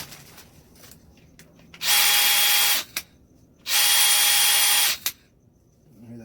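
A DeWalt 20V Max brushless compact 1/2-inch drill/driver runs in two loud, steady whirring bursts, each ending with a sharp chuck slap as it stops, close up with no speech.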